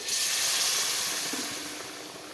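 Hot water pours into fried mustard and tomato masala for a tilapia curry with drumsticks and potatoes, giving a loud steady hiss and sizzle that slowly fades. No voices.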